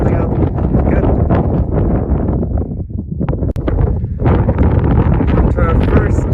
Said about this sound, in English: It's getting way windier up here.